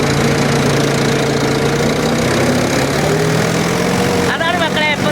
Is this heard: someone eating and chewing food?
no